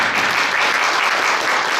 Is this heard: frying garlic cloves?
no